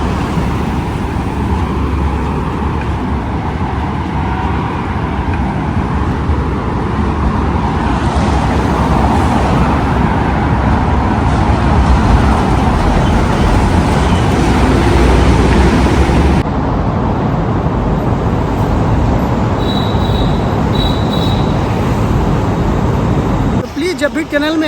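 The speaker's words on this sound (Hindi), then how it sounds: "पीछे से जो गाड़ियों की आवाज़ आती है ऐसा लगता है कोई जेट विमान की आवाज़ आ रही है" Vehicle traffic roars continuously inside a road tunnel, a loud, dense, echoing wash of engine and tyre noise that sounds almost like a jet, with a sudden shift partway through and a brief drop near the end.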